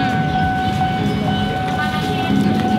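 A passing train at a busy food stall near a market rumbles loudly and steadily with a droning metallic hum and faint rail clatter, close by and continuous throughout.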